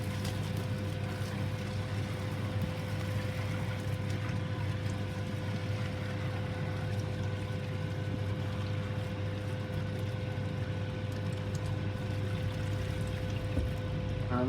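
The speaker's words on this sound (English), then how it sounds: "just rinse the grains through with the hot liquor" Hot liquor poured from a jug over the grains during a beer sparge, a steady continuous wash of splashing liquid with a low constant hum underneath, unbroken throughout.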